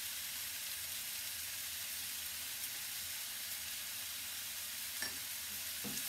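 Egg and potato curry with tomato frying in a pan gives a soft, continuous sizzle, faint and steady, with a couple of light scraping stirs near the end.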